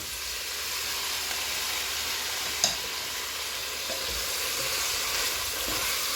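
Tomatoes sizzle in a hot pan while cooking Biteku Teku with amaranth, a steady close hiss throughout with one brief clack of a utensil partway through; no voices.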